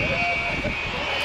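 An Avro Vulcan B2 jet bomber touches down on its sixteen main wheels at an air show, its engines a loud, continuous broadband roar filling the whole moment with no break.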